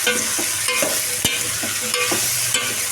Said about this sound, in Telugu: ఇప్పుడు మొత్తం కలుపుకోండి